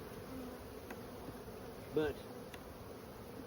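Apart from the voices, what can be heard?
honeybees buzzing around an open hive colony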